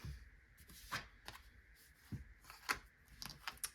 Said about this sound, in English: I'm just going to give these a quick shuffle first